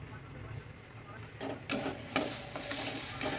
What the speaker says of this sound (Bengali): এটা দেওয়ার পরে কিন্তু আমি কিছুক্ষণ এভাবে একটু নাড়াচাড়া করে নিচ্ছি